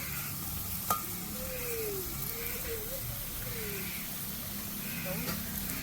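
Prawn curry cooks in a pan in a rural home kitchen, Sri Lankan style, giving a steady, fairly soft sizzle and hiss that runs throughout with a faint tonal whine over it.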